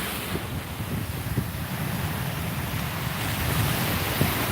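Ocean surf washing onto a beach, a steady broadband roar mixed with gusty wind buffeting the microphone and a few louder swells, continuous with no pauses.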